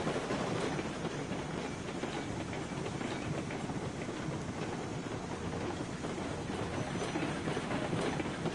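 Baldwin centipede diesel locomotive, a 1945–1946 Baldwin Locomotive Works design, in a train video game: a steady, loud rumble of engine and rolling train noise with faint rail clatter, continuous throughout with no talk.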